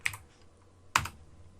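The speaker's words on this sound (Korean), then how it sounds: "F11번 누르고 저장합니다" Two crisp computer keyboard key presses sound close and clear, spaced about a second apart in a quiet room.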